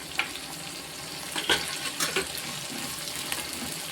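Grated coconut and dried red chillies fry in hot oil for sundakkai chutney, giving a steady close sizzle with a few sharp pops and crackles.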